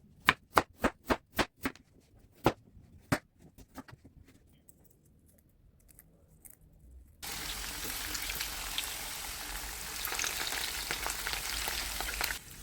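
Potatoes fry in margarine in a pan. A few sharp clicks and taps come first, then a dense, steady sizzle takes over for the second half, close and moderately loud.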